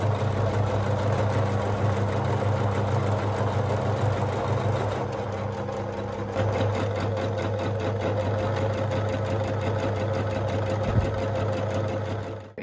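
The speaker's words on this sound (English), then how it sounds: "I'm gonna sew my 2 lines of gathering now" A sewing machine runs continuously, stitching two lines of gathering on fabric for ruffles: a close, steady mechanical whir and rapid needle chatter with a brief dip in pace partway through.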